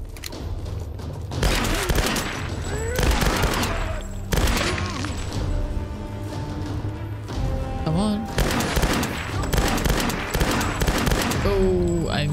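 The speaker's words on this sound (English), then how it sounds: "Missed all of those shots." Gunfire in the Tomb Raider video game, with loud bursts of rapid shots in several volleys and some mechanical clatter, and a player's voice speaking between them.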